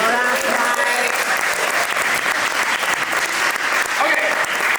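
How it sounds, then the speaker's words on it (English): Sustained audience applause fills a creative summit hall, a dense, steady wash of many hands clapping at even loudness throughout, with a few voices faintly mixed in. "Give me a round of applause."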